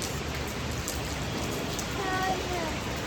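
A sudden heavy downpour gives a dense, steady wash of rain noise that fills the whole stretch, with a faint voice-like sound briefly rising over it near the end.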